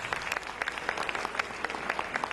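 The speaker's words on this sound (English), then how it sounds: "Let's give a round of applause to Jamie." Audience round of applause at a Bob Wills event at OKPOP, dense steady clapping from a crowd, fairly loud and continuous for a couple of seconds.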